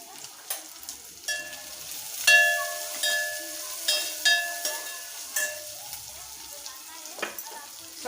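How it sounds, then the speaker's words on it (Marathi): Onion, green chili and garlic sautéed with turmeric in a pan, light sizzling punctuated by repeated metallic clinks and scrapes of a spatula at an uneven rhythm, without talking. "सगळं परतून झालेलं आहे आपला कांदा मिरची लसूण"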